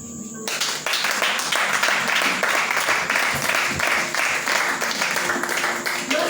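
A church congregation applauds steadily and loudly, a dense wash of clapping that fills the whole space, sustained without break from start to finish.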